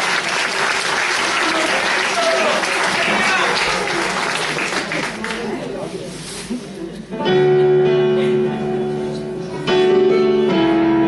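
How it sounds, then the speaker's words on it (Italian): An audience claps and applauds to welcome dancers at a dance show, the applause loud and sustained at first, then giving way to music. "Accogliamoli con un grande applauso."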